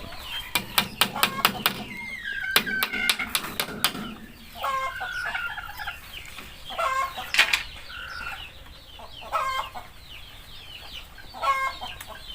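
Chickens in a simple low-budget backyard coop, with bursts of wing flapping and rooster-like calls early, then scattered clucks and squawks at close range, no talk.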